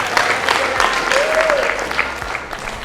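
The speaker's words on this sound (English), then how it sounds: "let's give her a round of applause just to welcome her" An audience at an inter-college entrepreneurship event claps steadily in a welcoming round of applause, moderately loud and continuous, with a faint voice underneath.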